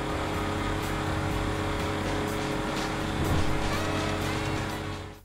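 A Dundreary Landstalker SUV drives in GTA Online with a loud, continuous engine drone. The engine swells as the vehicle accelerates near the end, with no voices.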